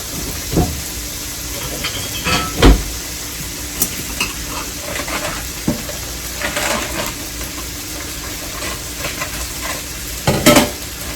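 Butter melting in a hot pan at the center of cooking food, a steady close sizzle and hiss with scattered sharp pops and spatula scrapes throughout, no voices.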